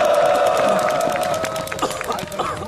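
Crowd at a union rally outside a prison gives a short burst of applause and cheering to welcome a speaker, a dense clatter of clapping with some voices mixed in, fairly close and steady.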